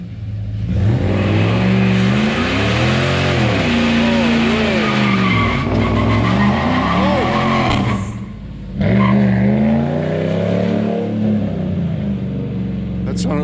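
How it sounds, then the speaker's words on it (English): A Hemi-powered truck does a burnout, its engine revving hard with long wavering tire squeal and skidding, loud and close, with a brief drop near the end before the screech resumes; voices are heard over it. "I don't even think this truck can do burnout."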